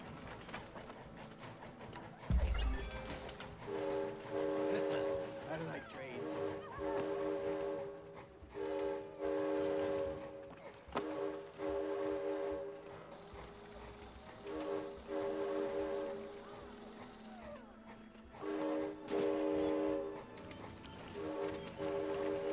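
A train in the video game It Takes Two rumbles steadily while a horn-like tone sounds in repeated long blasts, with a sharp thud near the start.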